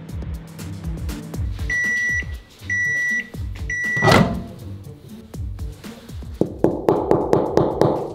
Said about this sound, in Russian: Еще один кусочек мы положили в микроволновку на 1 минуту.